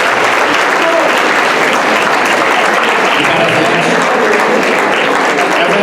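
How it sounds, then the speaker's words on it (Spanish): A dense, steady wash of applause from an audience welcoming a speaker at a school theatre event, loud and continuous throughout. "vamos a recibir con un fuerte aplauso a Gonzalo"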